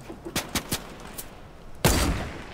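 Gunshots in a video game: a few faint, distant single shots spaced irregularly, followed by one louder, heavier blast with a lingering tail.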